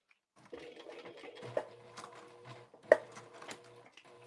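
A hand-cranked sewing machine stitching through thick fabric for a bag, quiet uneven clicks and mechanical thumps at a slow irregular pace, with a faint whirring hum between, close and soft.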